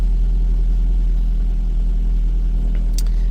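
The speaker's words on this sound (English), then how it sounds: "So you can hear the engine just warming up now." A 2009 Ford Focus engine idling while warming up, a steady low rumble held close and even throughout, with a brief faint click near the end.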